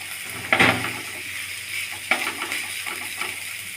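Four chopped green chillies go into a pan of frying onions and onion stalks, making two sharp sizzling bursts over a low, steady fry.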